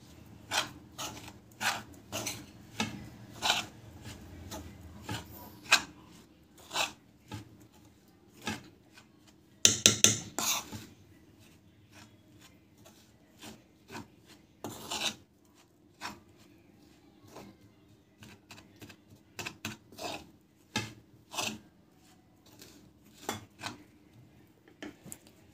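Laddu ingredients being mixed by hand in a bowl, soft irregular rubbing and scraping with scattered taps and a brief clattering burst near the middle, heard close and alone.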